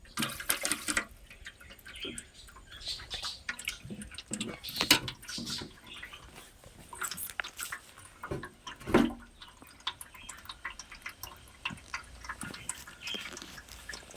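Water from an opened tap runs and splashes in uneven spurts and drips, fairly faint and close, with occasional knocks and a louder gush partway through; a voice murmurs now and then.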